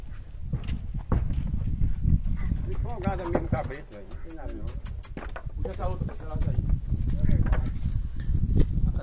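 Hooves of a mare clopping and thudding as she is loaded into a livestock trailer while collecting mares for breeding, a series of hard knocks close by, with people talking throughout.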